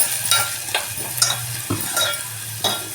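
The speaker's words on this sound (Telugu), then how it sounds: "ఇదంతా ఫ్రై అవ్వాలండి బాగా." Onion and ginger paste fries in a pan with a steady close sizzle, broken by sharp scrapes and clinks as it is stirred.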